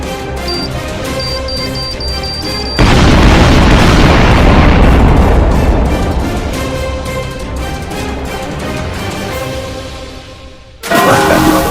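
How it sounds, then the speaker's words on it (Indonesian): A grenade explodes inside a gangster hideout: a sudden loud broadband boom hits partway through, then a long rumbling decay that fades over several seconds before a sharp cut, with background music tones continuing underneath. "kamu selamat dari ledakan granat"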